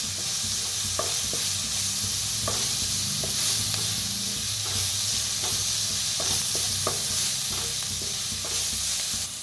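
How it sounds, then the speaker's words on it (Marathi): Vada pav filling roasts with asafoetida in a little oil, a steady close sizzle and hiss with intermittent spoon scrapes and taps on the pan, no voices. "हिंग टाकूया, आता भाजून घ्यायचा"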